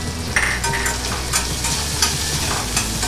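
Grated coconut and garlic frying in a pan over a medium flame, a close, steady sizzle with occasional spatula scrapes and stirring bursts running throughout.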